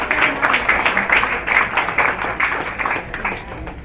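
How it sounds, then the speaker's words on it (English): Audience at a business launch event applauding pitched ideas, many hands clapping in a loud, steady wash that pulses slightly and carries through to the end. "We have another round of applause just to say"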